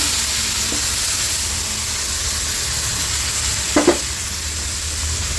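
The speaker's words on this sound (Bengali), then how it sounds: "এবার এখন ভালো করে একটু সবজিগুলো ভালো করে কাটলিয়ে নেব" Fresh winter vegetables and tomatoes stir-fry in a pan with a steady, close hiss of sizzling. A couple of brief clinks from stirring sound partway through.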